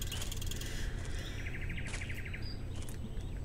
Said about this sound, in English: Those bird chirping ambiance sounds really start to get annoying.